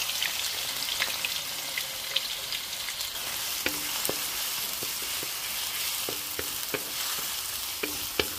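Meat sizzling in a pan alongside onion and garlic while spicy bopis is cooked, a steady dense crackle broken by occasional sharp clicks of a spoon or spatula stirring, with no talking.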